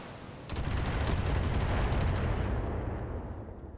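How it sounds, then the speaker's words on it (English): Missiles fire at a target in the Free Worlds mech game, a sudden loud roaring burst of rapid launches that holds for a couple of seconds and then fades away. "Engaging target. And now the missiles."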